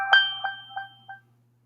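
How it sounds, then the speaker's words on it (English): A OnePlus Nord N200 5G phone ringtone plays a short, bright four-note chime, clear and close, then stops into silence. "the ringtone is plenty loud"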